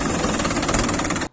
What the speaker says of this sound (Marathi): आज खरं कळालं की ट्रॅक्टरला चावी नसली तरी सुरू कसा करायचा